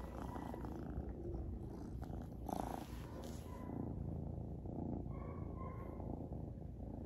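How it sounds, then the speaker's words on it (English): A small rescued kitten purring close up, a soft steady low rumble throughout with light rustling and a few brief bumps. "I know you could hear that purring."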